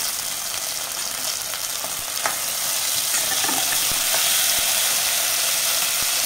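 Turmeric is added to a hot pan for an oyster mushroom dish and stirred in. A loud, steady sizzle runs throughout, broken by scraping stir strokes and scattered clicks.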